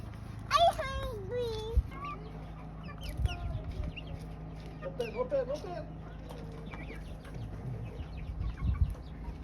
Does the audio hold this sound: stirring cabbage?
no